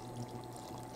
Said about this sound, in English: I'm going to start by putting in a little over a cup of Bellhaven ale